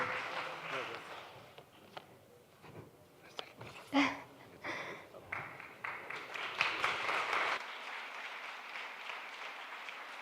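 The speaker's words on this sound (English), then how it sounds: "I think we should give another round of applause for all the people that were on stage" An audience at a climate change summit stage applauds, a moderate wash of clapping that swells and fades unevenly over about ten seconds, with a few louder individual claps and some murmuring voices mixed in.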